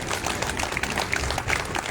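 Crowd clapping at a public gathering with a comedian on stage, a continuous patter of many hands at moderate level, with faint crowd murmur underneath.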